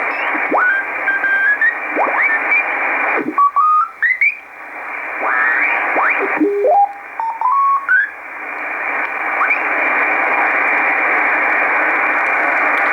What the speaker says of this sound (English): and Morse code CW.